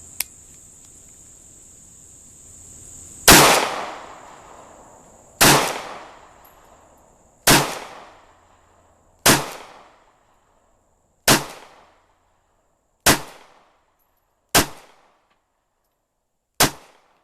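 A Ruger LC9 or Kel-Tec P11 handgun fires eight loud, sharp shots spaced about two seconds apart, each crack trailing a short echoing decay, after a small click at the start.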